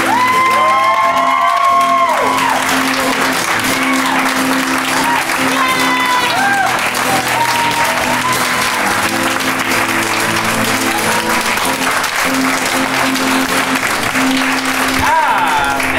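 A theatre audience bursts into sustained applause with cheers and whoops, loud and continuous throughout, while voices call out amid the clapping.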